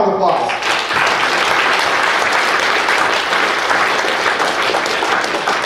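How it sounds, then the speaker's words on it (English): Loud, dense audience applause at a hypnosis stage show, honoring the volunteers, rising quickly and holding steady as a continuous wash of many hands clapping. "Give my volunteers a big round of applause."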